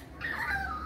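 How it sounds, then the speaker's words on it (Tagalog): A newly adopted dog lets out a short, high, wavering whimper up close, a single whining cry in an otherwise quiet room. "Ayan ang aking bagong aso."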